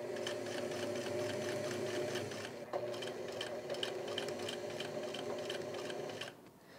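Sewing machine running steadily while stitching down a shirt collar, a fast even whirring rattle that pauses briefly near the middle, then carries on and stops, heard close and alone.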